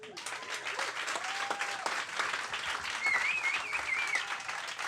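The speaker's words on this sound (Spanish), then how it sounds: "fuertísimo aplauso para Batman, para Tony." Audience applause fills a comedy stand-up show, a steady dense wash of clapping that holds strongly for the whole stretch, with a faint whistle rising near the end.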